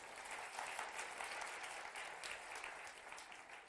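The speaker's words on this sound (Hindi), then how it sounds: "ताली जरूर बजा दिया करें।" Steady applause from a crowd gathered at a devotional darbar in Pandokhar, Madhya Pradesh, filling the space at an even level from start to finish.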